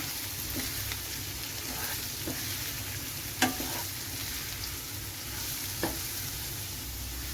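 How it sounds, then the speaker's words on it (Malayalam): Green chillies fry in a pan for Kerala-style camel roast, giving a steady, close sizzle. A few soft clinks of a stirring spoon sound against the pan, with no talking. "നമുക്കിതൊന്ന് ഇളക്കി കൊടുക്കാം."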